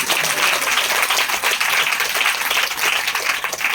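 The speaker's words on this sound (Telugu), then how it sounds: "చప్పట్లు కొట్టడానికి." An audience applauds in a sustained burst of dense clapping, loud and continuous from start to end with no voices breaking through.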